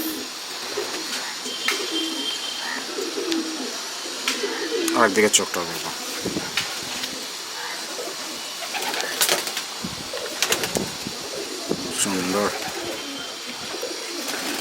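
Small pigeons in a home loft coo softly and intermittently while someone talks nearby, the calls low and close beneath his voice.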